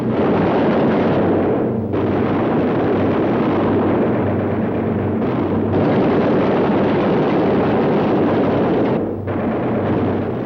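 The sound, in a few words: flak explosions around damaged B-17 bomber in wartime film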